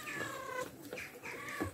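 A street cat meows twice or three times in quick, slightly strained calls, close but quiet, with no talk over it.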